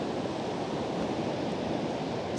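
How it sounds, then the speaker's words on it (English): Ocean waves pound the South Iceland shore in a steady broadband roar with spray, loud and continuous with no voices. "the waves are just pounding, so many"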